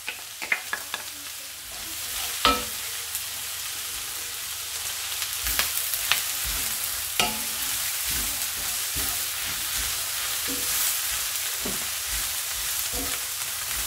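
Shredded cabbage and garlic fry in a pan, a steady close sizzle with scattered stirring clacks and scrapes of a utensil against the pan throughout.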